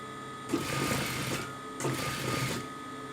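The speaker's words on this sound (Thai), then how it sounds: "เราจะเย็บเลยจากเส้นเดิมออกมานะคะ ครึ่งนิ้ว" A sewing machine stitches a fabric hem in two close runs of steady mechanical whirring, each lasting about a second, with a short pause between them.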